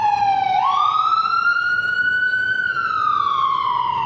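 A siren wails alone, its pitch sweeping up and then slowly falling, loud and steady throughout.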